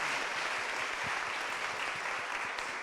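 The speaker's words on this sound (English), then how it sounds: "Please give them a round of applause." Sustained, even applause from an audience at a panel conversation on race in America, a soft, distant wash of clapping with no talk over it.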